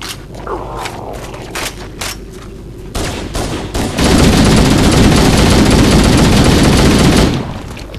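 Shotgun fire in Halo: Combat Evolved opens with a handful of separate sharp blasts, then becomes a loud, sustained burst of heavy gunfire lasting several seconds before it tapers off.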